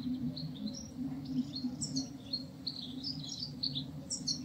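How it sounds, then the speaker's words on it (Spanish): Birds chirp and trill in bright, scattered bursts over a steady low ambient hum on a calm morning, fairly close and continuous throughout. "sonidos de pájaros,"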